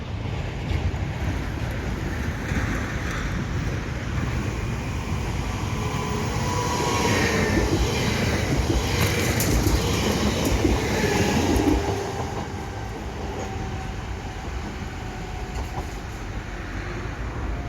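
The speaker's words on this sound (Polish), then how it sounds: "widzimy na horyzoncie pociąg Regio z Bydgoszczy Głównej do Kutna, który już się do nas zbliża" A regional electric train rumbles steadily at Bydgoszcz Wschód station, Poland, growing louder as it draws near, with a rising hum and rail noise before easing off.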